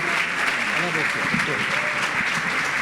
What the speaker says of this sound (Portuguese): Vamos dar um aplauso ao Senhor pela vida dele.